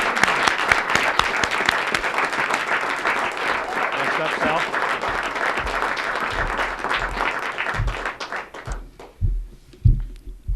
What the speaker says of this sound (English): How about a round of applause for those individuals?